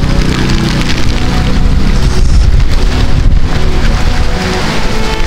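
Heavy rain from Super Typhoon Pepito pours down in Baler, Aurora, a loud, unbroken roar of water on surfaces, with deep gusts and rumbling booms rolling through the downpour.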